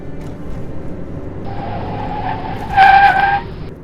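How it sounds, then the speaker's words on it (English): Car tires screeching as the car slides sideways through a slippery road curve, a steady engine hum building into a loud squeal that peaks near the end before fading. "The car lost traction while cornering, skidded sideways and had a minor collision."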